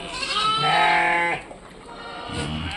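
Sheep bleat loudly and close while being herded into a pen, one long wavering cry followed by a quieter bleat near the end.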